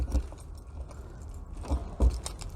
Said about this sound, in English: To open up your toilet, you need one of these keys here.